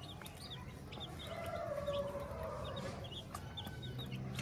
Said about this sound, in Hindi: ये देखें चूजे चावल कितने शौक से खा रहे हैं।